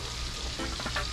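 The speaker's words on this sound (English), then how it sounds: "while the rest of the barra frying there" Barracuda fillets fry in a hot pan with a steady, close crackling sizzle that holds at even strength throughout, with no voices over it.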